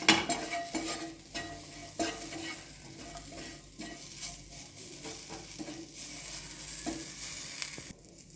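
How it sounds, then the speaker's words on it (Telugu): Bread sandwich stuffing fries lightly in a pan with salt and chat masala, sizzling steadily while a utensil stirs and scrapes in repeated strokes, close and moderately quiet with no talk. "వీటిని లైట్గా వేయించుకుందాం."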